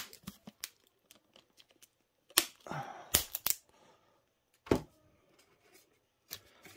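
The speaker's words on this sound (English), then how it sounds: "We'll seal it with some eBay tape." eBay-branded packing tape pulled off the roll and pressed down to seal a mailer holding a graded 2012 Panini Anthology Kobe Bryant card, with close, loud ripping bursts between quiet crinkles.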